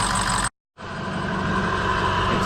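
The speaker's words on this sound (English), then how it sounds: "Six-liter Powerstroke diesel." A completely stock 6.0 litre Powerstroke diesel engine idles loudly and close, a steady low rumble that cuts out briefly for a moment of silence before the engine noise resumes and holds, quiet from the exhaust.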